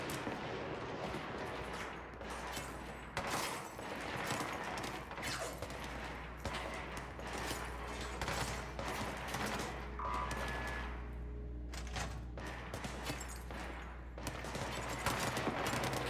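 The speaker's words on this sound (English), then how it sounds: "It is gunfire." Gunfire in the video game Control, a string of sharp repeated shots and bursts spread through the clip over a low ambient hum, fairly faint, without talking.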